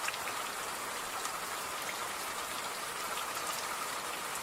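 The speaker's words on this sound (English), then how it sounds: "So I've got a rain effect I was practicing with the other night." Rain sound effect: a dense, even hiss of falling raindrops pattering on a surface, steady with no pauses, and no voices.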